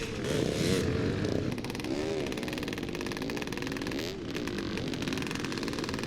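A Yamaha YZ motocross motorcycle races around a forest track at a 2005 Scottish meeting in Clackmannan, its engine buzzing loudly and continuously with rising and falling revs as it passes.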